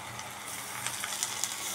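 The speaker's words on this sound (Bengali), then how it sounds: "মশলাটা কষিয়ে নিব।" Spice paste of coriander, chili, turmeric, ginger, garlic and cumin with cinnamon and bay leaf sautéing in a pan for chicken gizzard and liver curry, a soft steady sizzle with faint scraping clicks, quiet and close.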